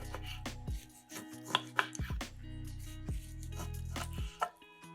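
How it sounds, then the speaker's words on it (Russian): Pork ribs with meat being chopped into portion pieces with a heavy knife on a board: sharp, irregular close chops, several in a row, loud in a quiet kitchen. "Ребрышки с мясом нарезаем порционными кусочками."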